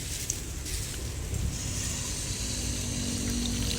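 Water pours steadily into a pot of sweet bamboo shoot curry, giving a continuous close splashing rush that holds throughout without talk.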